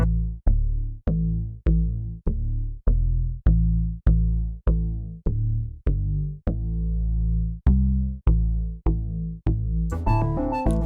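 A synth bass line driven by the GlitchStep 16-step AUv3 MIDI sequencer, set to a pentatonic major scale, plays evenly spaced plucked notes in a steady rhythm, ending in a brighter, busier burst near the end.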